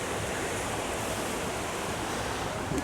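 Janet's Foss waterfall in the Yorkshire Dales, heard from the water's edge, pours as a steady, loud broadband rush of falling water that fills the whole moment without pause or voices.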